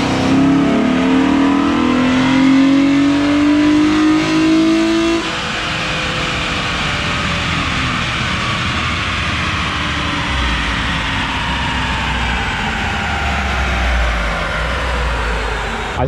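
Chip-tuned car, expected around 314 horsepower, accelerating hard during a power test: a loud rising engine whine climbs steadily, then a gear change drops the pitch and the engine roars on at full load, close and continuous.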